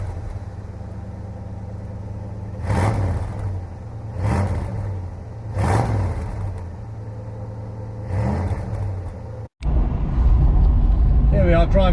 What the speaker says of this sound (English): Driving a Mustang, just hearing that burble behind me.